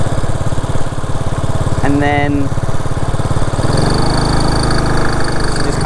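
A failing Honda Dream motorbike that has lost power makes a loud, rough, steady engine drone heard close up, with a brief voice speaking partway through.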